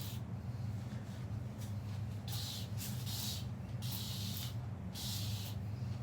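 Several short bursts of hissing spray from a spray bottle moistening hair ends, four or five squirts in uneven succession, close by, over a low steady hum.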